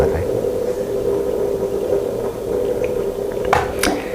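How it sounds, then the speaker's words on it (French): A coffee maker gurgles and bubbles steadily, with soft sputtering liquid sounds and a couple of brief clinks near the end. "C'est le bruit du café qui se mêle à la conversation."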